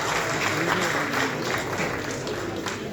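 Audience at a Tamil movie audio launch claps steadily in a dense, sustained round of applause, loud and continuous, with a faint murmur of voices underneath.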